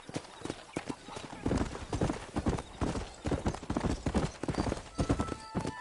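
Horse hooves clip-clop steadily at a ridden trot in Red Dead Redemption while herding cattle, loud and close, with a brief whinny and voices talking over the rhythm.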